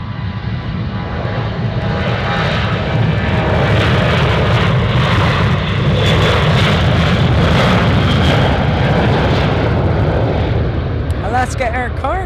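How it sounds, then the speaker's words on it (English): An Alaska Airlines Boeing 737 takes off from runway 25 left at Anchorage airport, bound for Cordova, with a loud, steady jet-engine roar that holds strong for the full stretch. "737 Alaska, taking off in front of us on runway 25 left, heading to Cordova."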